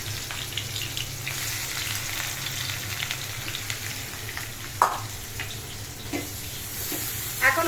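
Onions frying in a pan for a fish masala, a steady sizzle and crackle with a low hum underneath and occasional clinks and scrapes of a spoon, no speech.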